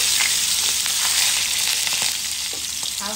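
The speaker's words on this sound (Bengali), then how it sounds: "হালকা ভেজে নেব মাছ," Fish fries lightly in oil, a dense, even sizzle with hiss that holds steady throughout, with a few faint clicks and no talking.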